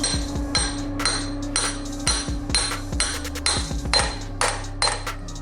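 Repeated metallic hammer blows strike a 24 mm socket driving a bearing in on a BMW E46 M3, about a dozen ringing clanks in a steady rhythm, close and loud.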